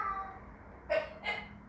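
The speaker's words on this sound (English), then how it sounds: "that's my cat" A pet cat makes two short, faint meows in quick succession, close by in a quiet indoor room.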